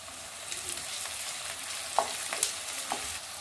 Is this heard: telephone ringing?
no